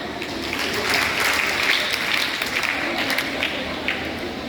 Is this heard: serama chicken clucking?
no